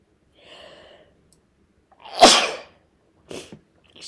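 One loud sneeze lands near the middle, with a faint breath before it and a shorter, quieter sniff or second burst after.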